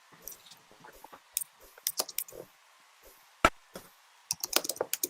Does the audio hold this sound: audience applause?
no